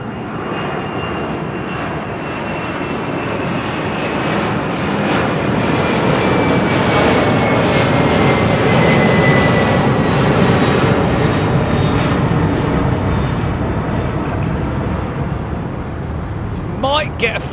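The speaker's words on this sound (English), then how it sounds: "It's a 767 and it's DHL" A DHL Boeing 767 cargo jet at London Heathrow thunders past in a loud, sustained engine roar that builds and peaks mid-way, with a whining tone and people speaking over it toward the end.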